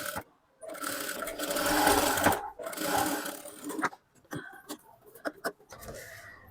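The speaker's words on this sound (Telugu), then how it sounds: "ఇలా డబల్ ఫోల్డ్ చేసి స్టిచ్ వేసుకోవాలి." A sewing machine stitches a double-folded fabric ruffle, running in a steady whirring burst for a couple of seconds, then stopping and starting in short stitches with clicks between.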